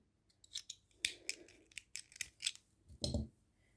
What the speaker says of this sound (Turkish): Oradan şöyle makasınızı